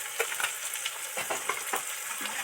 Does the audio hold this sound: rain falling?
no